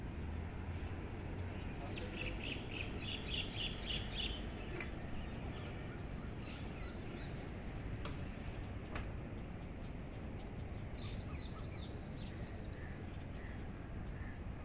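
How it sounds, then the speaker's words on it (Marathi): Faint bird calls and chirps come and go over a steady low background hum on a cold winter morning in a balcony garden, distant and scattered rather than a dense chorus. "पक्ष्यांची लगबग सुरू आहे."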